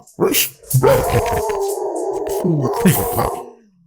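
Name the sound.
dog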